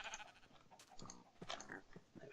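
Sheep and pigs in the survival video game Forever Stranded give a few short bleats and calls, fairly faint and layered over ambient game sound, with no talking.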